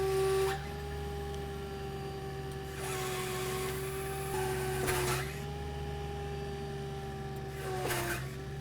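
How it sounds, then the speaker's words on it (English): A Miller EnPak truck-mounted power unit runs steadily and its engine ramps up under hydraulic demand for a service crane: a continuous close mechanical drone with tonal whine that swells slightly in level a few times. "You can hear the machine ramp up when it senses that it needs hydraulic power."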